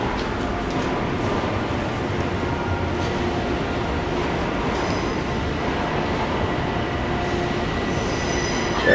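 An M7 commuter train pulls into Moynihan Station in New York, a steady loud rumble of wheels and rail noise with high metallic squeal running throughout, close and continuous.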